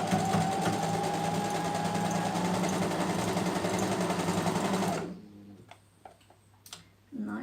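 A sewing machine stitches elastic into fabric, running steadily and loudly for several seconds before stopping, followed by quieter handling sounds.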